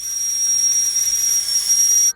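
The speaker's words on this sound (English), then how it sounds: "The first thing I'm going to do is turn on my tea kettle teapot." A tea kettle on the stove gives a loud, steady high-pitched whistle over a hiss of steam, holding one continuous tone before cutting off abruptly at the end.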